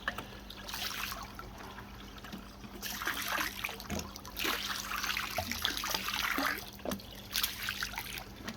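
Water trickles and splashes steadily while a can is rinsed out under a running tap, with a continuous close liquid wash and small clatters, no voices.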